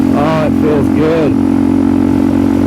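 A Suzuki DRZ400SM motorcycle, rejetted to a 45 primary, holds a steady, loud engine drone at wide open throttle while a voice talks briefly over it near the start.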